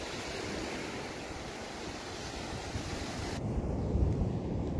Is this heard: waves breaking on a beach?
yes